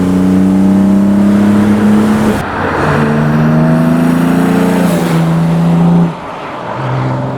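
Jaguar E-Type engine accelerating hard, a loud, close, throaty roar that climbs in pitch through the gears with brief dips at each shift and eases off near the end.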